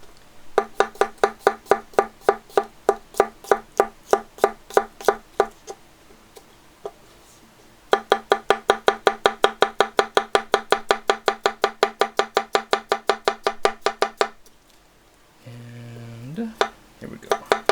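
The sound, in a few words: chef slicing vegetables with a sushi knife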